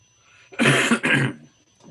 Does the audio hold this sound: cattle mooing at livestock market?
no